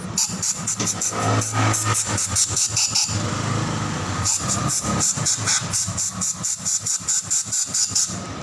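An air compressor blows out a motorcycle wheel part in a shop, firing repeated sharp, loud bursts of rushing air with short gaps between them over an engine-like hum, briefly pausing before resuming in a rapid pulsing run.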